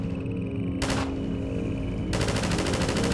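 A mounted turret machine gun in Half-Life 2: Episode Two fires long, rapid sustained bursts, loud and close, with a short pause between two stretches of continuous fire and no talk.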